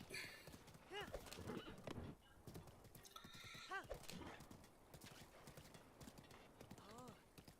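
Hooves clip-clop in a steady rhythm while a horse neighs several times, with game-like ambience and occasional voice underneath, from the video game The Legend of Zelda: Breath of the Wild.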